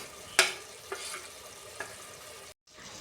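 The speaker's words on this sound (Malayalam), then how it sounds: "ചില്ലി ഫ്ലേക്സും ചേർത്തിളക്കുക." Beef roast with chili flakes stirred in a frying pan: a soft continuous sizzle with a few sharp scraping strokes of the spoon, close and fairly quiet, briefly dropping out near the end.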